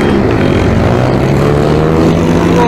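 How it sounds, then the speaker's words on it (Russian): Motorcycles race loudly along a city street in Yakutsk, a dense, steady engine roar with rising and falling harmonic whine that fills the whole stretch without a break. "Шума столько от этих вот ненормальных мотоциклистов."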